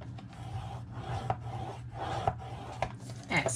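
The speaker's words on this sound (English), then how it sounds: "I will score this at 1/2 inch." A scoring tool rasps along a paper sheet for a paper purse in several short, close, rubbing strokes over a low steady hum, with a faint tap between passes.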